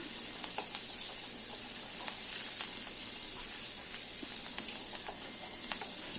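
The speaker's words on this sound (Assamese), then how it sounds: "ইয়াত দিলোঁ মই আদা নহৰুখিনি অকণমান ভাজি লৈছোঁ।" Ginger and garlic, with green chilli, sizzle and crackle in hot oil for palak paneer, a steady close-up frying hiss with occasional stirring pops and no talking.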